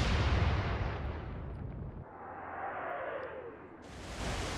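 Naval gunfire in Atlantic Fleet, a deep, loud cannon blast from a warship that rolls into a long fading rumble, with a rising whistle of a shell in flight and a second boom near the end.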